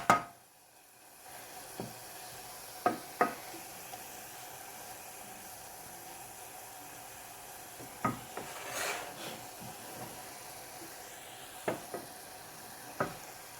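Corned beef meat pie filling with vegetables fries softly in a pan, a faint steady sizzle broken by occasional sharp scrapes and taps of a utensil stirring against the pan.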